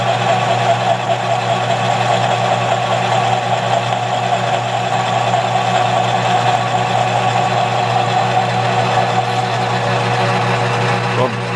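Metal lathe cutting a taper with a taper attachment, a steady loud mechanical hum and whir with a constant motor tone that runs unbroken throughout.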